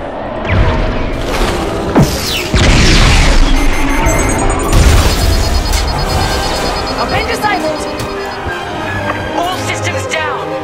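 Missile strikes explode in Star Wars: Squadrons, several loud booming blasts and crashes rolling over a dense space-battle mix of engine roar and electronic beeps, with a voice speaking briefly between impacts.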